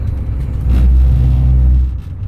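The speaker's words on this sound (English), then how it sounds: "That's what that sound was." A van rolls over road rumble strips in a work zone. A loud, low droning buzz from the tires lasts about a second over the steady rumble of the engine and road inside the cab.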